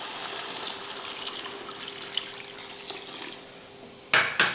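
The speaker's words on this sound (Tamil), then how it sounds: "இந்த டைமில் நம்ம தண்ணி ஊற்றிடலாம்." Water is poured into a pot of cooked-down vegetables and tomatoes for a home curry, a soft trickling wash under a faint steady hum, ending with two sharp louder splashes.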